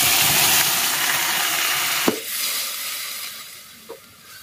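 Ground pea pod paste sizzles loudly in a pan with fried onion and chilli, a dense steady hiss that drops sharply after a thud and continues more softly with a brief stir near the end.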